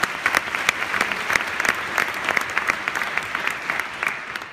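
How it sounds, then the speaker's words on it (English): A live audience at a film festival closing night claps steadily, with many hands blending into continuous applause and sharper individual claps popping out, fairly close and alone without speech. "So please give them a round of applause"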